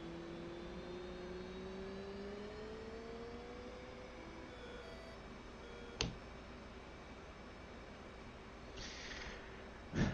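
Jet engine on an F/A-18C in a flight simulator game spooling down to idle, a faint steady whine with a falling tone over a low hum, broken by a couple of brief clicks.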